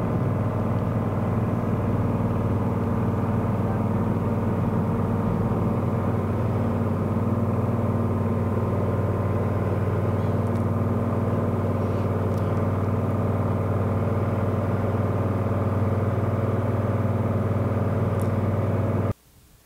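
Cozy MKIV canard airplane engine roaring steadily at full power through the takeoff roll, a loud, constant drone with strong low harmonics that holds unchanged for nearly twenty seconds before cutting off abruptly at the end.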